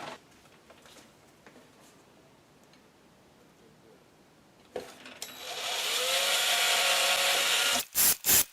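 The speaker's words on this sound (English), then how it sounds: "I'm just going to drill through it because it didn't mark well enough." A power drill bores through pallet wood for a US flag craft project: quiet workshop rubbing at first, then a loud, close, sustained drilling whir that ends in a few short stuttering bursts.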